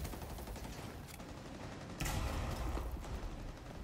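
Shotgun blasts in a tactical shooter game, a dense run of loud booming shots and clatter with an even stronger burst near the middle, with no talk over it.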